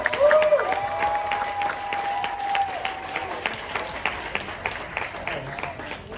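Applause from an audience at a hackathon's final presentation, a thin, steady patter of clapping with a long held tone over it early on, fading somewhat toward the end.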